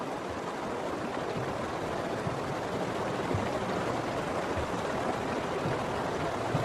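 Cold, fast river water rushes past as bison calves swim across beside their mothers, a broad, steady roar of flowing current that holds evenly throughout.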